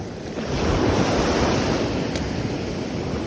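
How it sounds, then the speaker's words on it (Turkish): Sea waves break and wash steadily onto the shore during a midday light-rod fishing trip, with constant wind buffeting the microphone and no voices. "Deniz güzele benziyor. de dalga var."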